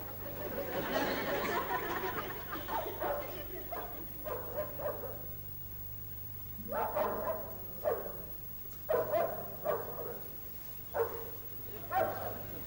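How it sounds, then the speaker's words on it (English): A dog barks in a series of sharp yaps and whimpers, fairly close, over a low steady hum in an otherwise quiet room. "Oh, God, that rotten dog."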